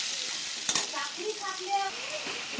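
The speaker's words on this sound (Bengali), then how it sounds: "দেখো কড়াইয়ে তেল দিয়ে দিয়েছি, এবার এই আলুগুলো ভেজে নেব।" Potatoes frying in hot oil in a wok (kadai), a steady close sizzle throughout with a quick stir or clink early on.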